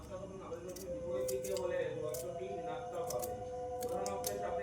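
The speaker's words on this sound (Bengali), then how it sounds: "বেগুনটা কাটবো।" A knife cuts through eggplant on a board in a home kitchen, giving a run of short crisp slicing clicks and taps up close, with a steady murmur of background voices and household noise underneath.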